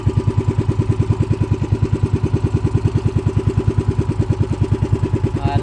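A motorcycle engine with a suspected fault idles up close, a loud, even, rapid thumping pulse that holds steady throughout, alone without voices.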